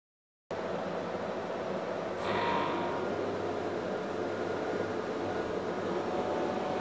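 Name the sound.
power generator running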